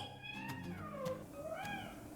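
A hungry house cat meows loudly and insistently at night, giving several drawn-out, wavering cries in quick succession, close by and with no talking.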